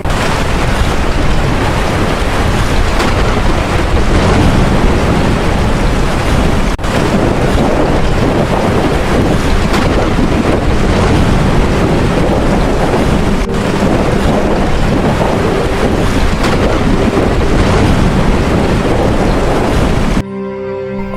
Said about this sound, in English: Stormy weather makes sailing north difficult.